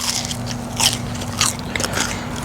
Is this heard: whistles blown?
no